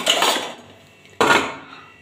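Two loud metallic clanks of a set of three kadhai cooking pans knocking together, each ringing briefly and fading, with a short pause between them.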